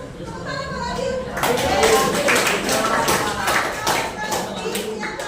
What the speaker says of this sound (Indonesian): Tepuk tangan buat Abil